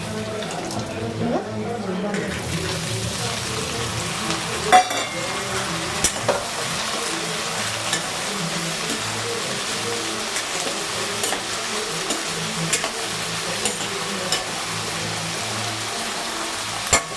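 Borbati beans go into a simmering curry and are stirred in the pan, giving a continuous soft sizzle and bubbling with recurring scrapes and clinks of a spoon, close and steady throughout.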